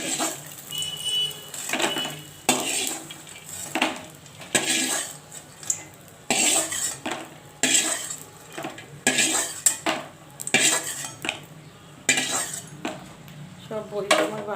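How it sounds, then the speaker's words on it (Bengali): A metal spoon clatters and scrapes against a pan while fried lentil bori are lifted out, a steady run of sharp clinks and knocks close by in a home kitchen, with no talk. "সব বড়িটা আমার ভাজা হয়ে গেছে, তো আমি তুলে নেব"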